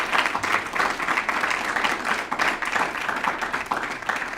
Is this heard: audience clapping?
yes